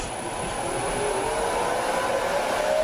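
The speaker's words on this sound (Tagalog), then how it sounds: "Ito naman yung sample ng blower." An industrial blower fan runs with a continuous, loud rushing whoosh of moving air, a steady broadband roar with a faint high whine, its pitch rising slightly over the course.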